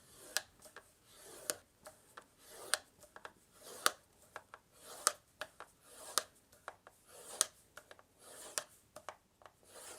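Cardstock is scored every half inch with a scoring tool, giving faint, quiet rubbing scrapes and light ticks repeating in an uneven rhythm, close up with no speech.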